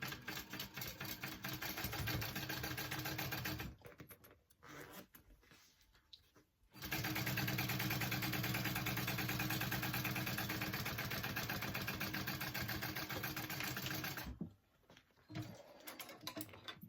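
A sewing machine top stitches a clutch bag, running in steady rapid stitching bursts with two short pauses, close and loud, without talk.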